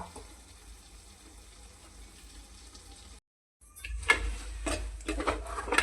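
Water is poured into a pan of potato-stuffed capsicum curry. A steady low kitchen hum breaks into a brief silence, then louder splashing bursts of pouring water and sizzling run to the end.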